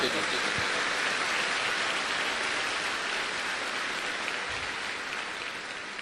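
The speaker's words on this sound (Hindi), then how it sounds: "एक जोरदार ताली दीजिए ऊपर वाले उस ईश्वर के लिए।" Loud, dense audience applause at a motivational business event, a steady roar of clapping filling the hall from start to finish with no break.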